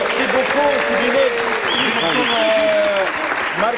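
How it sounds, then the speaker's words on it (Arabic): A studio audience on an Arabic-language comedy show, Idhak Maana, breaks into loud, steady applause with cheering, filling the space continuously while a voice speaks over it. "تصفيق على احلى جمهور"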